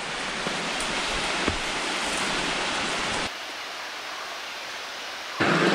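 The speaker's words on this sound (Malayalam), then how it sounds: "നമ്മൾ നടന്ന് നമ്മുടെ സ്ലൈഡിങ് വാട്ടർഫാളിൻ്റെ അവിടെ എത്തി കേട്ടോ" Steady, full rush of a sliding waterfall in forest near Munnar during the monsoon, heard up close with no voices. The roar drops to a softer level about halfway through, then swells loud again at the very end.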